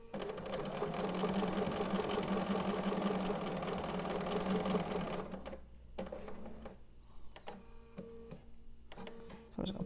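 Sewing machine stitching a tiny piece of fabric runs in a fast, steady whir for about five seconds, then stops, leaving quiet handling clicks and faint background sounds.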